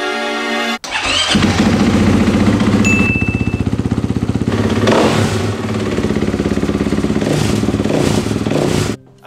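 A Yamaha DT125 two-stroke motorcycle starting up loudly after a short beep, then settling into a steady, buzzy idle with brief rises in revs before cutting off abruptly.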